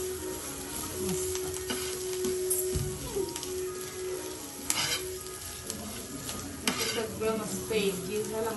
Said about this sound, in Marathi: मस्त परतून घ्यायची कोथिंबीर